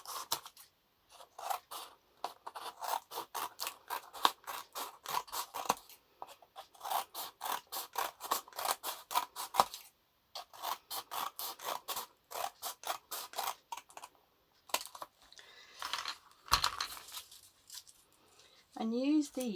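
Scissors snip steadily through paper pieces for a collaged postcard, a fast run of crisp, close cuts in bursts with brief pauses, and a few rustles and scrapes toward the end.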